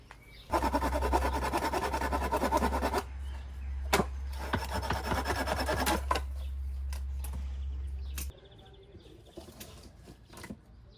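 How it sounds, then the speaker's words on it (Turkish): A hand saw rasps through wood in rapid back-and-forth strokes, close and loud, pausing between bursts over a steady low hum. "Şimdi bunu testereyle keseceğim."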